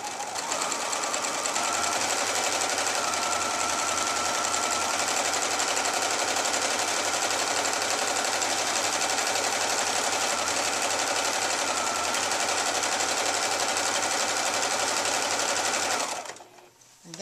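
A sewing machine runs steadily and loudly as it stitches fabric, holding one continuous mechanical whir for most of the clip before it stops abruptly near the end.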